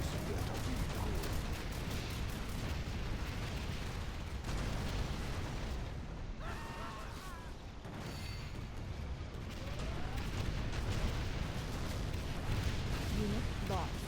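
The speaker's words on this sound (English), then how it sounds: "Uber Artillery's doing its job." Heavy Uber Artillery bombardment in the strategy game C&C Zero Hour, a dense, continuous roar of booming shell blasts and explosions layered together at high volume, with no speech.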